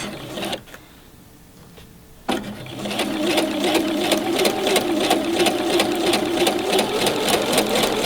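A sewing machine stitching around the corners of a travel snack bag, starting with a brief burst, pausing, then running continuously in a fast, even, loud mechanical rattle close by.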